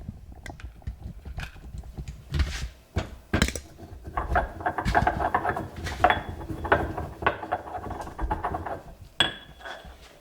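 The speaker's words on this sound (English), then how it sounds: "let's go ahead and grind up our saffron and cardamom. I'm going to put it in the mortar and pestle." Saffron and cardamom ground in a mortar and pestle, irregular knocks and gritty scraping strokes close up, with a few sharper clinks and no talking.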